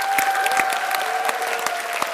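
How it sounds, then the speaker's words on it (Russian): A television game-show studio audience applauds Maxim Galkin, brisk dense clapping with sharp individual claps popping out, while a faint tonal hum runs underneath. "Мы аплодируем Максиму Галкину."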